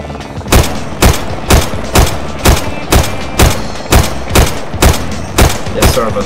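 Heavy gunfire aimed at a helicopter in DayZ: a dozen loud, evenly spaced shots ring out one after another at a steady rhythm, each a sharp close blast.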